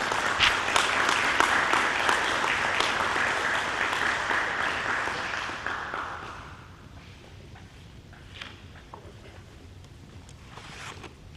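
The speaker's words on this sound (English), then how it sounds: "Please give him a round of applause." A crowd of cadets and guests at a Wreaths Across America ceremony applauds a colonel's introduction, the clapping steady and moderately distant before tapering off to a quieter ambient hush with scattered claps.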